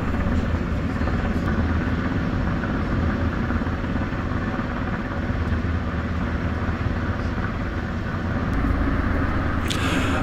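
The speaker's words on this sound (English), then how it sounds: "The wind or wash from the helicopter is very strong" A US Coast Guard helicopter hovers close beside a cruise ship during a medical evacuation, its rotor and engine roar forming a loud, unbroken wash with heavy wind noise.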